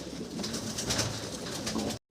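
Fancy pigeons, owl-type birds, coo softly and repeatedly at close range in a brief burst that ends suddenly.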